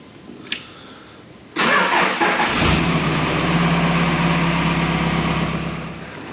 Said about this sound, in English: I'm just going to flip this tug around and get the forklift underneath it